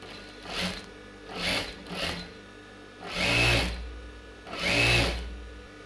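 A sewing machine stitches a folded blouse sleeve edge in five separate whirring bursts, the last two longer and louder, with quiet pauses between them.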